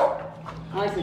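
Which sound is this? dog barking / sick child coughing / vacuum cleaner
dog barking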